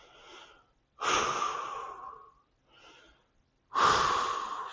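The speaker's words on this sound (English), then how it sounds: "Take a few deep breaths." Deep breathing during a stretch-and-roll recovery workout: two long, loud exhalations alternating with softer inhalations, close to the microphone, in a slow, steady rhythm with no speech.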